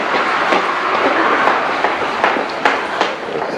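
A metro train at a station rumbles along with a steady broadband roar and periodic clacks from the wheels, loud and close, with no talking.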